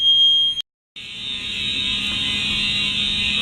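A building fire alarm sounds loud and close, a harsh continuous electronic buzz that cuts out briefly near the start, then resumes and holds steady without pause.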